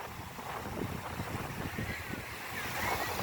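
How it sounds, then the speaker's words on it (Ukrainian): Sea waves break and wash over stones on the shore at Porto San Giorgio, Italy, a steady close roar of surf with wind buffeting the microphone and no speech. "розбиває хвилю."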